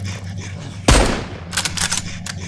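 A single loud gunshot from a gun in the survival video game Mist Survival, sharp and close, followed by a few lighter clicks and clatters.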